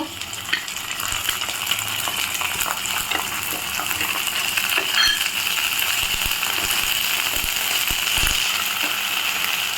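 Chopped onions sizzle and fry in a pan as the base for a spiced banana flower gravy, a steady bright crackle with occasional stirring scrapes, close and continuous with no talking.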